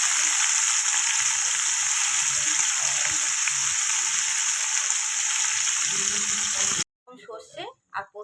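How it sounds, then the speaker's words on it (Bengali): Eggplant pieces fry in hot oil for shukto, a steady loud sizzle and crackle lasting most of the time before cutting off abruptly, followed by a few seconds of someone speaking. "বেগুনগুলো ভেজে নেবো"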